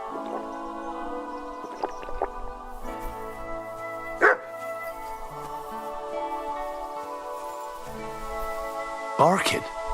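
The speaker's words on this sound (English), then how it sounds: "Barking." A dog barks in the medieval role-playing game Kingdom Come: Deliverance II, a few sharp barks at a distance over ambient game sounds and someone talking.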